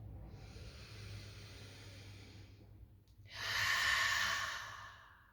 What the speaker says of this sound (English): Take a full breath in, a full breath out, and take 1 more.